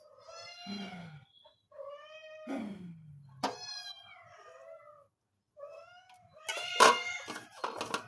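Cats meow close by in a series of separate, drawn-out cries with short pauses between them, ending in a louder, harsher yowl.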